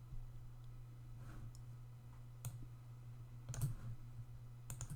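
Computer mouse clicks, a handful of sharp isolated clicks spaced irregularly over a quiet low electrical hum, close and fairly faint, with no one talking.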